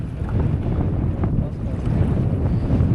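A west wind blows across a lake at Liepājnieks, a steady, full buffeting rush on the microphone with faint lapping water beneath it and no voices.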